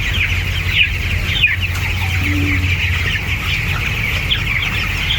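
Broiler chickens cluck and murmur steadily in a crowded shed of about 8,000 birds, a dense continuous chorus with occasional sharper squawks above a low hum.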